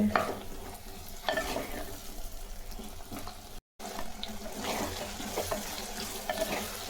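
Chopped eggplant sautéing in a pan for a tamarind gravy gives a steady, soft, close sizzle. Repeated scraping stir strokes run through it, with a brief silent break partway. No one speaks.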